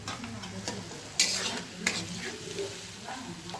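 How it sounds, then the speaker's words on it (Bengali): A spice paste with tomato sizzles in a pan for pabda fish paturi while a spoon stirs and scrapes it in a few quick, close strokes over a low frying hiss. "ভালো করে মশলাটাকে কষিয়ে নেব। তার সঙ্গে এবার টমেটোটাও দিয়ে দেবো।"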